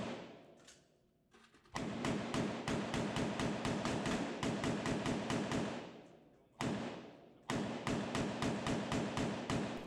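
M16 rifles firing on a military shooting range: loud, close strings of rapid, evenly spaced shots, broken by short pauses between bursts.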